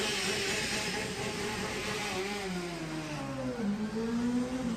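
A car engine revs and whirs with rising and falling pitch, moderately loud and continuous with no talk.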